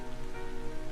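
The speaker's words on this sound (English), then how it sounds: "Oh, now it's raining." Rain falls in the video game Trails of Cold Steel, a steady, continuous wash of rainfall with no talk over it.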